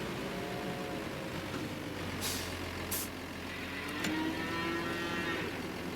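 Cows mooing in the Farming Simulator 25 video game, several drawn-out low moos rising and falling over a truck engine hum, with short hissing air-brake bursts and a faint reversing beep.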